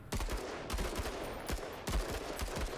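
Squad gunfire in a tactical combat game, a series of sharp shots and short bursts spaced irregularly over a constant rumbling battle background, moderately loud and with no talk.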